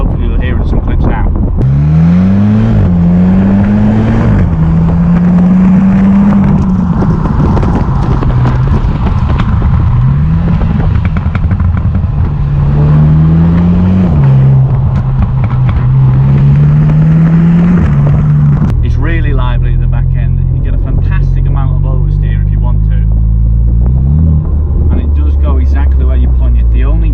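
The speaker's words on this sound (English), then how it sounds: "You get a fantastic whoosh from the turbos and the exhaust really burbles" Turbocharged engines of a Morgan Plus 4 and a MINI JCW rev and shift through the gears loudly and close, with rising pitch sweeps and burbling exhaust, under continuous speech.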